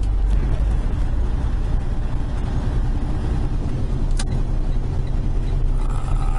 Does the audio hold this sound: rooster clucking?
no